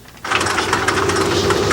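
An aircraft engine in a movie kicks in abruptly and runs loud and close, a steady throbbing drone with a rough, pulsing texture that continues to the end.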